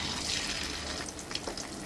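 Papaya dhoka pieces slip into hot oil and fry with a close, steady bubbling hiss that stays even across the moment, with no talk.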